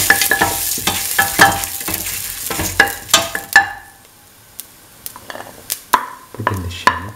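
Fennel seeds and red chili go into hot oil after fenugreek seeds pop, bringing a close crackling sizzle with sharp pops and spoon clatter that fades to sparse crackles and scrapes.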